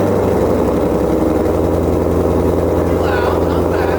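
A Shelby GT500 engine cold starting and settling into a loud, steady idle, a deep constant rumble close by, with a faint rising whine near the end.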